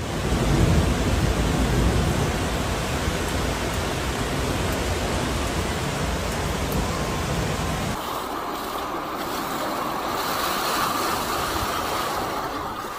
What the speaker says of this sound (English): Flash flood dragged cars along avenues in the capital of Minas Gerais.